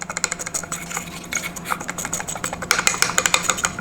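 A loose Sherco motorcycle cooling fan rattles rapidly and unevenly, a dense close-up clatter over a faint motor drone, louder toward the end, with no voices.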